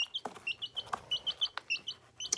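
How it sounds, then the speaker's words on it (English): A baby chicken gives a rapid series of short, high chirping peeps, close and fairly quiet, with a few soft thumps in between and no talking. "And here is my little baby chicken."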